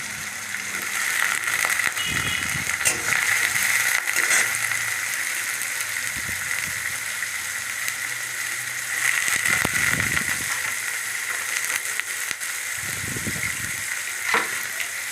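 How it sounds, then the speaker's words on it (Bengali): Chopped onion and garlic fry in hot oil with a loud, steady sizzle, broken by occasional stirring clatters in the pan. "এবার পেঁয়াজ কুচি দিলাম রসুন কুচি দিয়ে ভালো করে ভেজে নেব তেলের সাথে"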